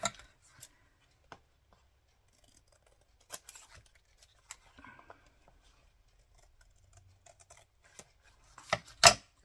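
Scissors cut through card paper for a handmade greeting card in a quiet room. Sparse, crisp snips come at irregular gaps, then a louder cluster of cuts arrives near the end.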